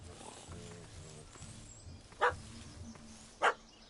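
A puppy barking at a cat up a tree in The Witcher 3: two sharp, loud barks about a second apart, heard over low background voices and ambient game sound.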